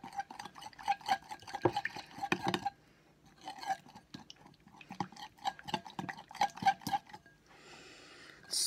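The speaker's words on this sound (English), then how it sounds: "Mix it." A spoon stirs a honey teriyaki sauce mixture in a bowl, giving a steady run of soft scraping and light clinks with brief pauses, close and fairly quiet with no talk.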